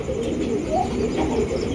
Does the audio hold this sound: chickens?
no